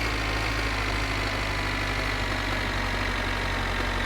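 A tractor engine revving hard in first gear in the game My Winter Car, a steady droning hum that holds constant and loud with no pauses and no talking.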